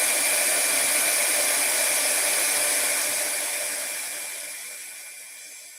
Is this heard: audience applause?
no